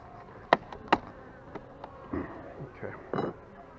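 Honeybees buzz around several beehives during a brood check, with brief faint buzzing passes and a few sharper close fly-bys against a quiet outdoor background.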